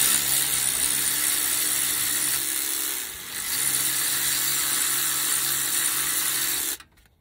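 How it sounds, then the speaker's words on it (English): An electric wrench loosens front brake bolts on a Ford Explorer, whirring and rattling steadily up close, pausing briefly midway, then cutting off abruptly near the end. "electric wrench."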